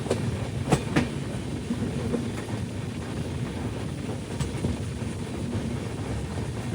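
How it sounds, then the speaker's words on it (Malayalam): The Kerala Sampark Kranti Express runs on rails in Kerala, heard from on board as a steady rumble with occasional rhythmic clicks and clanks of the wheels over joints, no voices present. "ട്രെയിൻ ഇപ്പോൾ തൃശ്ശൂരിലേക്ക് ഇതെത്തി"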